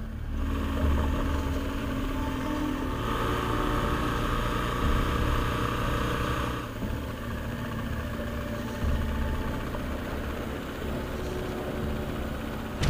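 Motorbike engine on an unpaved, under-construction road in Ecuador, a steady rumbling drone with wind noise that shifts slightly in pitch, continuous and fairly loud with no talk.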